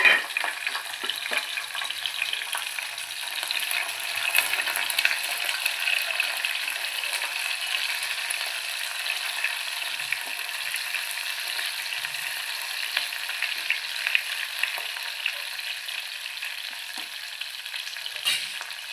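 Tomato frying in a pan for a radish-leaf vegetable dish gives a long, steady hiss with dense fine crackle that stays fairly even throughout. Close and loud, with no talking.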